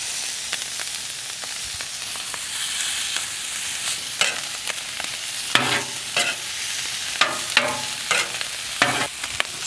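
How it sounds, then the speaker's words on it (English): Steaks cooking with garlic butter on a home grill, hibachi style, give a steady close sizzling hiss broken by sharp spatula clicks and scrapes, with no talking. "Some of this delicious garlic butter. Put some on the steaks."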